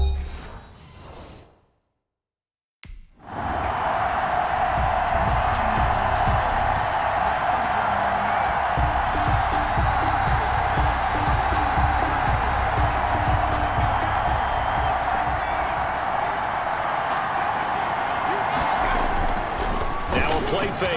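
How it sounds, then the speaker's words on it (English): After a brief dropout, a large football stadium crowd in the video game Madden 21 roars steadily in the distance, a dense sustained wash of cheering with an announcer's voice over it. "this crowd is ready"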